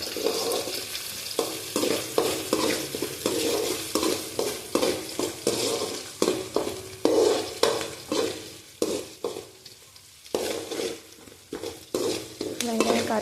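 Onion and curry leaves fry in hot oil after mustard seeds, a close sizzle broken by rhythmic spatula strokes that scrape and stir the pan in repeated surges.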